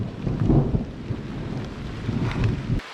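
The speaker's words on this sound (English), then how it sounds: "These thunderstorms here, from our experience, they blow over really quickly." Thunder rolls through a passing thunderstorm over a backcountry canoe route on the Missinaibi River, Canada, a deep low rumble swelling near the start and again toward the end before cutting off, with faint rain and wind beneath.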